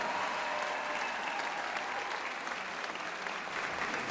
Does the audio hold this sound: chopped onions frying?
no